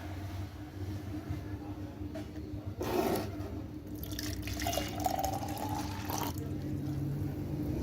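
Water runs from a tap and pours into an overflow vessel during a physics experiment, a steady close splashing stream that thickens midway with gurgling and trickling.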